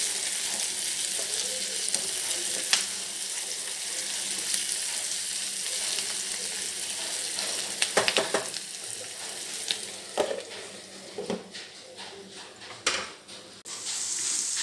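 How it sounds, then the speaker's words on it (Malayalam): Potatoes and onions fry in coconut oil with a continuous close sizzle, broken by intermittent scraping and clattering knocks as a spoon stirs them in the pan. "നമ്മളിത് വെളിച്ചെണ്ണയിലാണ് ഉരുളക്കിഴങ്ങും സവാളയും കൂടി ഇട്ടിരിക്കുന്നത്"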